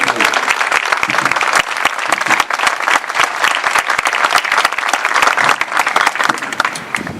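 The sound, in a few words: audience applause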